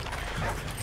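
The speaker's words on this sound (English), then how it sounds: "There's a dog!" A dog in Modern Warfare 2 Spec Ops lets out a quick, close bark or yip, one short burst over game background noise.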